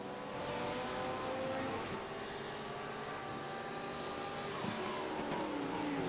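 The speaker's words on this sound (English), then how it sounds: "And that beautiful Porsche." A Porsche GT3 race car at Sebring roars past at high speed, its engine tone steady and loud before shifting pitch as it goes by, with other race engines droning in the background.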